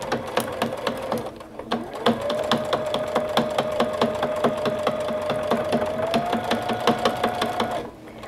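A sewing machine runs steadily for several seconds, its needle hammering in a rapid, even rhythm as it stitches a quarter-inch seam around a fabric Christmas stocking, with a brief pause near the start.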